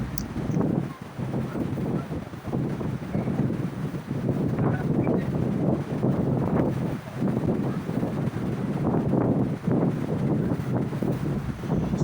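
Steady wind gusts at a Ternate, Cavite beach resort, heard from a shady spot under a tree, with continuous rumbling buffeting against the microphone and no talking.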